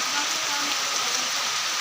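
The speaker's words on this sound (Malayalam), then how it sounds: "നല്ല വേനൽ മഴ അല്ലേ" Summer rain falls steadily, making a continuous, even hiss of drops on surfaces with no pauses and no voices.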